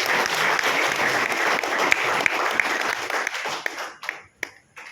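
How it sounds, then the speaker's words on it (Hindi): A seated audience at a talk bursts into loud, dense applause. The clapping is sustained for about four seconds, then thins into a few scattered claps and fades out. "एक बार अपने लिए जोरदार ताली"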